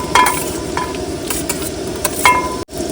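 Onions sizzle in a frying pan over steady hissing, with occasional clinks and scrapes of a spoon stirring, close and continuous.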